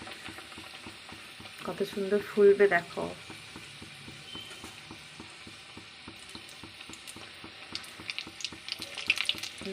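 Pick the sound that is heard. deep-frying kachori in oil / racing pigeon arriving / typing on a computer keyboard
deep-frying kachori in oil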